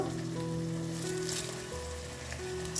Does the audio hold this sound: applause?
no